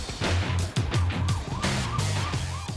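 An ambulance siren wails in rising and falling sweeps through city traffic, loud and steady over a dense road rumble for the whole stretch.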